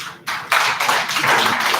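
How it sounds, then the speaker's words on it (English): Applause from an audience at a regional health directorate annual review meeting, a brief burst of clapping that swells in after a short quieter moment and carries on steadily. "So let's welcome them with a round of applause."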